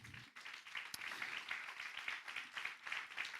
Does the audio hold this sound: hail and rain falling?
no